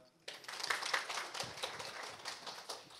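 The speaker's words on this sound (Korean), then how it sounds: "큰 박수로 맞이해 주세요" Audience applause welcoming a speaker at a public-private cooperation conference, a brief burst of scattered hand clapping starting abruptly and continuing at moderate level, with faint voices mixed in.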